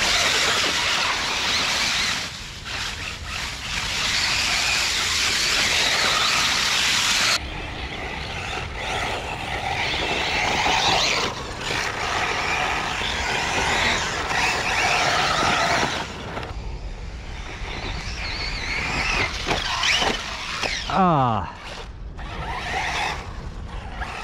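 An Arrma Typhon 6S RC car on its punch setting accelerates hard, a loud, close, high-pitched electric motor whine surging and dropping over rough ground, with a rising sweep near the end.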